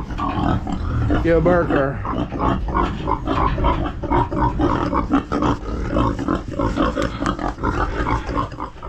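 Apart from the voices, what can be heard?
pigs grunting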